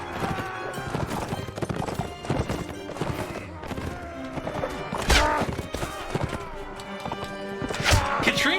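Horses gallop through a video game siege battle with enemy cavalry. Quick hoofbeats clatter steadily over the clash of combat, with occasional whinnies and loud crashes, and someone speaks faintly underneath.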